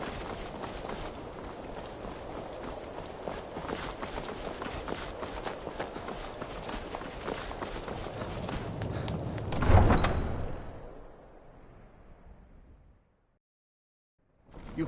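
Horse hooves clip-clop steadily in Apex Legends, a dense, continuous run of hoofbeats for about ten seconds that swells, then fades away into near silence.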